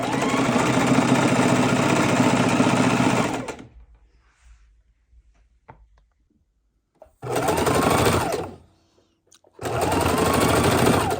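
A sewing machine stitches slowly around the edge of a felt Easter egg, running in three loud steady bursts separated by quiet pauses with faint handling clicks.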